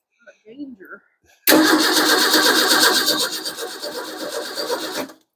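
A 1953 Ford 4x4 engine with the choke set cranks and catches abruptly, then runs at a loud, rough, fast idle for several seconds before cutting off. A short stretch of quiet talking comes before it.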